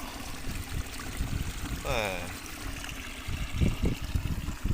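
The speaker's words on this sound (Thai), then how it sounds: "ฟังเสียงน้ำไหล" Water rushes and gurgles in a steady stream nearby, a continuous broad wash with a brief warbling voice-like sound partway through.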